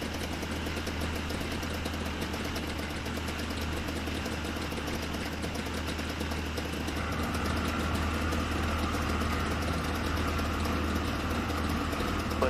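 Aircraft engine idling in a flight simulator game set at Renton Municipal Airport, a steady low droning hum that grows slightly louder and fuller partway through, with no voices.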